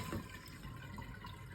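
Water poured from a salad spinner into a kitchen sink, a short soft splashing rush that sounds quiet and close.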